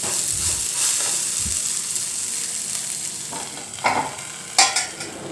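Beans fry in a pan with a steady close sizzle, punctuated by a few spatula scrapes and clinks of stirring.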